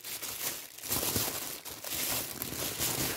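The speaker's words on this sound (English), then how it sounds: "Sorry for all the rustling." Packaging for a newly released oracle deck parcel crinkles and rustles steadily, close and fairly loud, as layers of wrapping are pulled open, with no talking.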